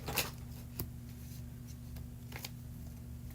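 Tarot cards shuffled fast at a live reading, a few crisp riffling bursts with one sharp flurry near the start, fairly close over a steady low electrical hum.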